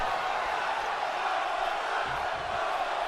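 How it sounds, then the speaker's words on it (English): Wrestling crowd at a BSW live event, a dense, steady roar of many voices chanting and cheering without a break, loud and continuous. "Crowd's chanting for one more time"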